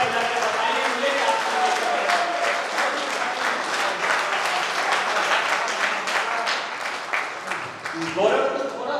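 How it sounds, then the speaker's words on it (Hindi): A crowd at a Hindi heroic-verse poetry recital in Rajsamand claps in sustained, dense applause that tapers briefly near the end before a short swell, with voices mixed into the clapping. "दोनों हाथ उठाकर तालियां बजाकर बताइए मुझे क्या"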